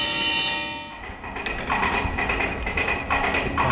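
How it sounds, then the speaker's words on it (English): A fire alarm bell effect on a Wurlitzer theater organ, used for silent film scenes: a sustained organ tone breaks off into rapid metallic bell ringing that rattles on continuously and loudly. "fire alarm,"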